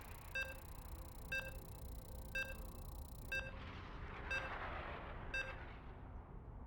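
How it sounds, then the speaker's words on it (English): Lobby-ready beeps in the StarCraft 2 video game: a series of five short, evenly spaced electronic tones about one second apart, clear over a low background hum, with no talking. "You can hear the beeps. The lobby is ready."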